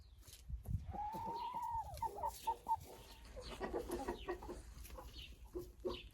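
Chickens with a white rooster in a backyard flock, clucking and calling close by: a drawn-out tonal cry followed by a run of short clucks, then busy overlapping flock chatter, no talk.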